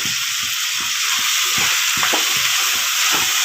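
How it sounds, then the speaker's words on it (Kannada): Ground masala sizzles and fries in a little hot oil for a cauliflower and potato curry, a steady close crackle broken by regular soft stirring scrapes, with no voices. "ಈಗ ಮಸಾಲೆ ಹಾಕೋಣ. ಮಸಾಲೆ ಅರಸ್ಕೊಂಡಿದ್ವಲ್ಲ ಅದು ಅಷ್ಟೇ, ಸ್ವಲ್ಪ ಎಣ್ಣೆಲೇ ಬಾಡಿಸ್ಕೋಬೇಕು ನಾವು."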